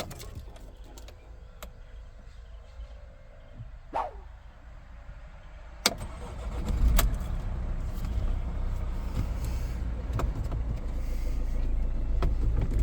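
An Opel Zafira C engine starting: a few clicks and a sharp crank, then the motor catches and settles into a steady, close idle rumble.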